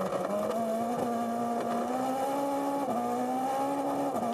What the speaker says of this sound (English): Listen to that car. He's absolutely screaming, keeping the revs up really high.